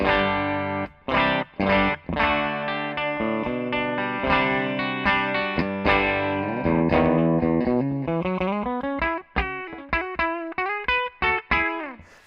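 Music Man Cutlass HSS electric guitar on its bridge pickup with added gain from a Plexi-Drive pedal: driven chords and descending lead phrases with brief stops between, close and up front, with no talking.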